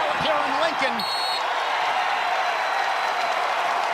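A crowd at a college wrestling dual between Oklahoma State and Nebraska in Lincoln keeps up a loud, sustained roar and cheer throughout, with an announcer briefly talking over it at the start.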